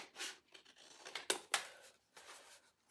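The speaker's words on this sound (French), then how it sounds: "J'ai, vous voyez, des très grands ciseaux de couturière." Large dressmaker's scissors cut through a cone for a DIY Christmas tree, giving a few separate crisp snips and rustling cuts at close range, quiet and irregular, with no speech.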